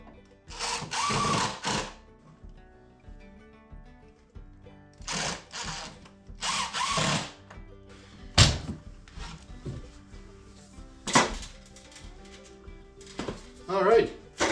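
A power driver sets screws into a workbench shelf in several short, loud whirring bursts separated by pauses, with a person talking between them.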